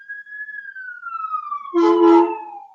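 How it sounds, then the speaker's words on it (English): An emergency siren wails through a city neighborhood as a single long tone that slowly falls in pitch, with a brief rougher, louder burst near the end. No one speaks. "I live in the hood, so you'll hear lots of sirens and things."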